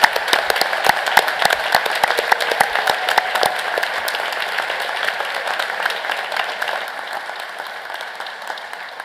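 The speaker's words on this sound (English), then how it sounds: "We can give them all a round of applause." A large audience at a university graduate commencement ceremony breaks into sustained applause, dense and loud at first, then softening to a steady patter.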